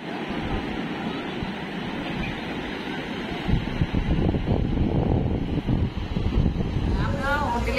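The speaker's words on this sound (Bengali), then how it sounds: "সমুদ্র উত্তাল" Rough sea waves at dawn on the beach at Puri roll and crash in a steady roar, mixed with wind buffeting the microphone, some voices faintly underneath.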